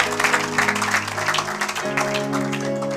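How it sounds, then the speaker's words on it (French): Church congregation applauding together during a French-language worship service, a dense continuous wash of clapping over sustained music and voices. "Acclamons pour la gloire de notre Dieu"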